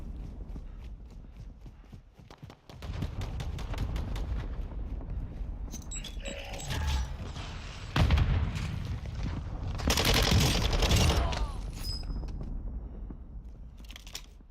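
Gunfire in the Warzone 2 video game, bursts of rapid shots mixed with sharp reports and mechanical clatter, growing louder and denser toward the middle of the stretch with game effects layered around them.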